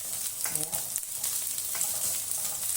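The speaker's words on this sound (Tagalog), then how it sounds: "Sunod natin yung dried fish natin. Lutuin natin yung sandali." Dried fish fries in a pan for adobong sitaw, giving a steady bright sizzle with faint stirring scrapes, close and continuous, with no talking.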